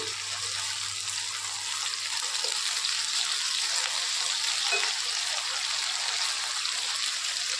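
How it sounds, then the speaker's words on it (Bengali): Prawns frying gently in a pan, with a steady, soft, continuous sizzle and faint crackle throughout, fairly close and without talk. "চিংড়ি মাছটা খুব কড়া করে ভাজবো না, একটু হালকা করেই ভাজবো"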